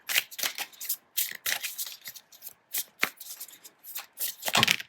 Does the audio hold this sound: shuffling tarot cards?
yes